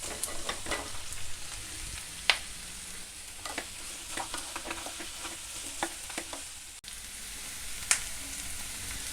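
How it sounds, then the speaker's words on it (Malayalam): Mushrooms frying in a pan with softened vegetables for a stew, a steady low sizzle broken by intermittent scrapes and clicks of a spoon stirring, close and moderately quiet. "നമുക്കിനി ഇതിലേക്ക് ഈ മഷ്റൂം ചേർത്ത് കൊടുക്കാം."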